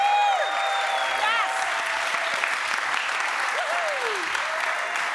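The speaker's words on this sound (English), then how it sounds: "Maybe I can hear you with an applause." An audience of over 200 people applauds at a hybrid book presentation event in Pakhuis de Zwijger, a steady wash of clapping with some whistling tones over it.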